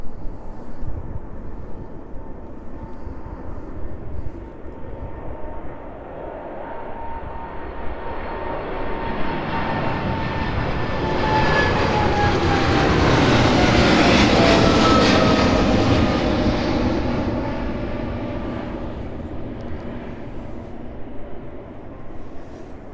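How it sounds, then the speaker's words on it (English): Boeing 777 taxiing out at East Midlands Airport in the evening, its engine whine and rumble building gradually to a loud peak as it passes close, then fading away. "Fourth 777 on the ground here at East Midlands, making its way out to Leipzig this evening."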